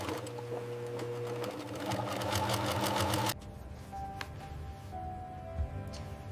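An industrial sewing machine runs steady rapid stitching on luxury bags in a factory, loud and continuous for about three seconds before stopping, leaving quieter workshop clatter and hum.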